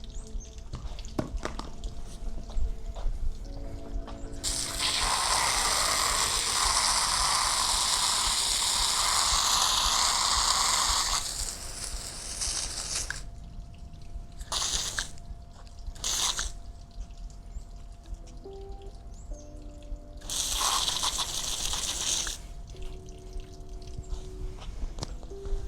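Water pouring and splashing onto a Marshall Willen portable speaker while it keeps playing music, giving long bursts of loud hissing spray, then shorter splashes, with faint music underneath throughout.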